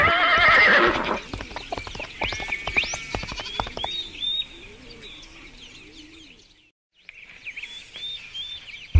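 A horse lets out a loud whinny at the start, then hooves clip-clop on hard ground, with birds and cooing doves calling in the background before a brief silence.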